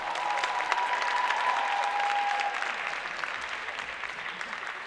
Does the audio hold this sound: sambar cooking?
no